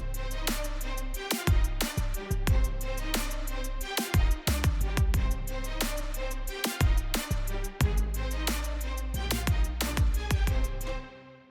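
A motivational rap beat with punchy drums plays loud and clear, its strings melody doubled an octave higher over a steady rhythmic groove, and the music fades out at the end.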